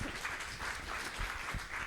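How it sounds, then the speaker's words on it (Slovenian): An audience applauds the duo Kamikazete at a library festival opening, a soft, dense wash of clapping heard from a distance and sustained through the moment. "Dajmo še en aplavz, prosim"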